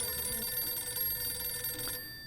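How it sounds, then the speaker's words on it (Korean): Telephone ringing in the survival video game 60 Seconds, an electronic bell tone with steady ringing partials that holds for about two seconds and then drops away, with no voices over it. "8일차 전화 왔고요"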